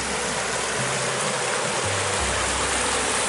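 Broadband rushing of a river stream in the Victorian High Country bush, continuous and fairly loud, with a faint low hum wavering underneath and no voices.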